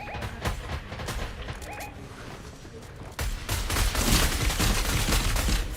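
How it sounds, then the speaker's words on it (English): Rapid bursts of gunfire fill an esports video game match, a heavy fusillade of shots growing louder and denser in the second half, with crowd and caster voices underneath. "That was a big headshot there by Bloomington."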